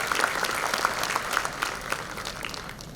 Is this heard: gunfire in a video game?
no